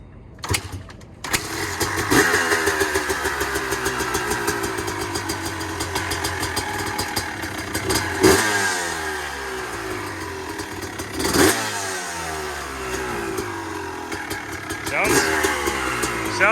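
A 2003 Honda CR250 two-stroke dirt bike engine fires up on one kick, then idles and revs with a raspy, buzzy crackle close by; sharp throttle blips rise and fall repeatedly, and people talk over it.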